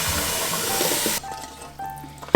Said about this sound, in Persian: خودم آب سرد روش میریزم